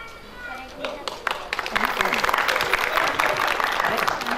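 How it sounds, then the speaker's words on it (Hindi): A crowd at a friend's dedication gathering claps, the applause swelling from scattered claps into a fuller, lively burst, with voices talking over it throughout. "जोरदार तालियां दोस्तों"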